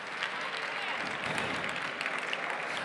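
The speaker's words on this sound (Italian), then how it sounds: "a chi ha vinto un applauso fatelo" Steady applause from a crowd at an award ceremony honouring hackathon winners, dense clapping holding at an even level throughout with no pauses.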